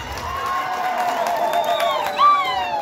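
A crowd of students at a school prayer day claps and cheers, a steady, moderately loud burst of applause with high shouts and whoops rising through it.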